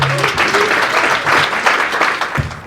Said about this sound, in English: give Wendy a round of applause